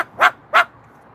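Moluccan cockatoo imitating a barking dog with two loud, close, bark-like calls spaced a moment apart, then quiet.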